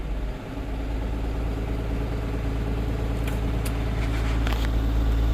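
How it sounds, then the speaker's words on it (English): A bus engine running at a raised fast idle during an air brake check, a steady, loud low-pitched drone that holds throughout, with a few brief hissy bursts near the end and no talk. "Set the fast idle."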